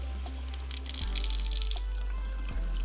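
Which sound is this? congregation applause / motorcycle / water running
water running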